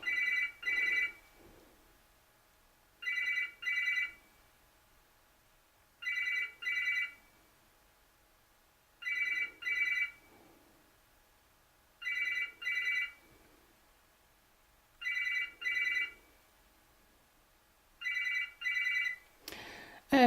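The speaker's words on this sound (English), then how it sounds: "The phone's going." A telephone rings in repeated double bursts, about eight bell-like trills spaced evenly every few seconds, fairly close and clear against a quiet room with no talking.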